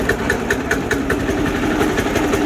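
A small diesel engine swapped onto a Sears garden tractor runs steadily close by, with a low continuous rumble and a faint rhythmic ticking throughout, no talk over it.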